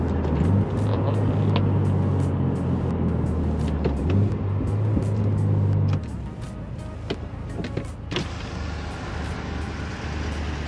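A loud, heavily modified 600 WHP Subaru STI is heard from a following car. The engine rumble runs steady and close, then drops to a lower cruising drone with scattered clicks and road noise.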